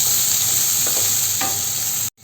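Chopped onions fry with ginger and garlic in a pan for chicken sausage roast, a loud, close sizzle with a couple of stirring scrapes before it cuts off abruptly.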